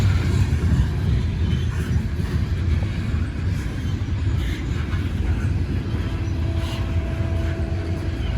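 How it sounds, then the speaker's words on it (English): Heavy eastbound coal train locomotives laboring up a grade at Cresson, Pennsylvania: a loud, continuous low rumble and diesel roar with rail noise, holding steady throughout. "just listen to those locomotives"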